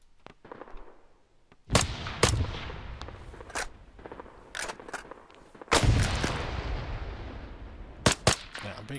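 Repeated M14 DMR rifle shots in ARMA 3, a close single crack followed by several more spaced bursts of gunfire with ringing tails, over quiet background ambience.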